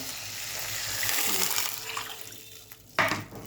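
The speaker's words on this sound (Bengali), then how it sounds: "এবারে জলটা দিয়ে দেবো।" Water poured into a hot cooking pan with sautéed food, a rushing splash and sizzle close by that fades, then a sharp clink near the end.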